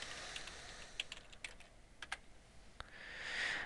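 Light, irregular taps on a computer keyboard while a search is typed, a few quick clicks then a pause, with faint background hiss and no talk.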